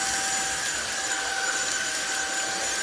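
A 600W, 50kPa home vacuum cleaner runs with a steady loud whine and broad airflow roar, holding an even level throughout without pauses.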